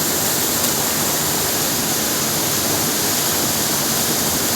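Gharcandhi waterfall in Keonjhar, Odisha, pouring in a steady, loud, broadband roar of rushing water that stays constant and close throughout with no voices.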